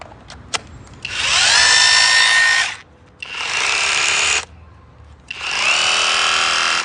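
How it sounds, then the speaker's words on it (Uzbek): A rotary hammer drill runs in three long, loud bursts with short pauses between, each starting with a rising whine and holding a steady high-pitched grind. "Perforator."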